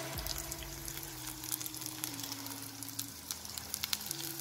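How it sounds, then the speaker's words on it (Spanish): Small onions cook gently in a saucepan over the lowest flame on the smallest burner, a soft even sizzle with faint scattered pops and a low steady hum underneath. "Como ya se han empezado a cocinar las cebollitas"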